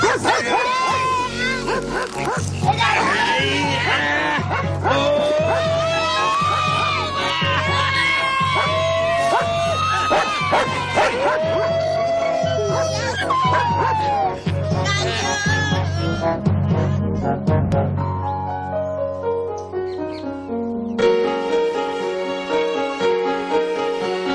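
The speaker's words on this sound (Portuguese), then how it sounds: "É só o cachorro!" A dog barks repeatedly in loud bursts amid music and other animal noises, the barking close and insistent before the music takes over.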